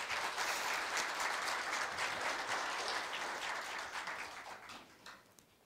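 At a Korea University staff retirement ceremony, a hall audience gives a big round of applause during a medal presentation and photo with the university president. The clapping is fairly faint and steady, then gradually fades out.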